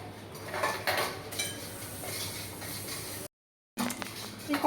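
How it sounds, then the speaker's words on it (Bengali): A karai wok being scrubbed clean by hand, with metallic scraping and clinks of the pan against the sink. The sound is continuous and close, then breaks off in a short gap before the scraping resumes. "এই কড়াইটা একটু মেরে নিই"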